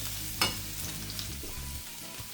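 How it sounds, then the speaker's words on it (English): Fish sizzling as it sautés in a pan with onion and ginger, a steady low frying hiss with a brief sharper crackle near the start and no voices. "Just go and saute this."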